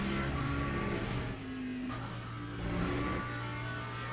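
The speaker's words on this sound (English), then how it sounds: "the Mustang just sound like just pure speed" A Ford Mustang race car in a Le Mans racing game revs hard, its loud engine note holding high and steady before dipping and then climbing again.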